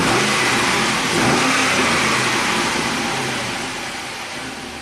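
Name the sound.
2006 Pontiac GTO V8 engine idling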